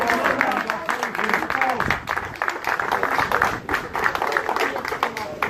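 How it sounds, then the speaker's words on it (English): Crowd applause at an outdoor political rally, dense clapping mixed with cheering voices and crowd noise, steady and fairly loud throughout with people talking and shouting underneath. "Big round of applause."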